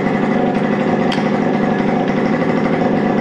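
A Yamaha RD50 'Kenny Roberts' motorcycle engine runs steadily at a loud, close idle after a bad ground fault is fixed, with no voices.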